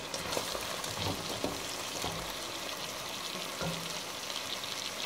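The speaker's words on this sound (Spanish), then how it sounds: "Ahora lo voy a revolver muy bien." Chicken with chickpeas and spinach stirred in a hot pan, a soft steady sizzle with occasional scraping strokes of the spoon, quiet and close.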